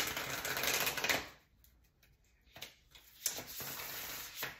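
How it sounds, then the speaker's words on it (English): Tarot cards are shuffled by hand in quick riffling bursts of crisp, close rustling, with a pause in the middle before more shuffling resumes. "I'm just getting a few rounds of shuffling."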